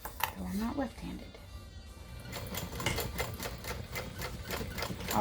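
A sewing machine stitches down a zipper and lining with a steady rapid needle clatter, while a person talks over it near the start.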